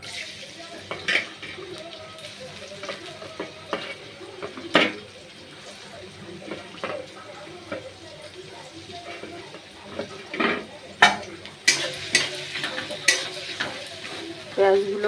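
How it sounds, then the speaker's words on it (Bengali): Chopped onions sizzle steadily in mustard oil in a wok, with repeated scraping and clinking of a metal spatula against the pan as they are stirred, fairly close and loud. "এবার একে একে পেঁয়াজ কুচিগুলো দিয়ে দেবো"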